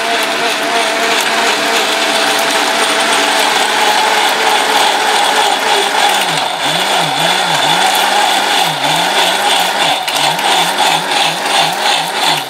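An Orpat 1600W blender grinds a paste in a loud, continuous motor whine that holds steady, with a rhythmic wavering pulse in the second half as the contents churn, with no voices.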